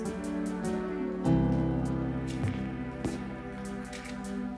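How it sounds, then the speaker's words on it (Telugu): Rain falling at a beach resort in the Andaman Islands, a steady patter and drip of drops on surfaces continuing throughout, close and moderately loud with no talking. "రెయిన్ కదా, నార్మల్గా ఇక్కడ ఎప్పుడు రెయిన్స్ కంటిన్యూగా ఉంటూనే ఉంటాయంట"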